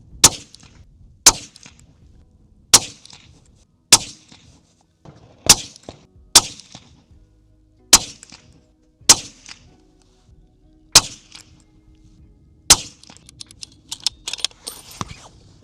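Ten sharp gunshots from a Sig Sauer Cross Trax .308 rifle ring out one at a time at a steady pace of roughly one every second or so. The reports are loud and close, with short decays and no talking.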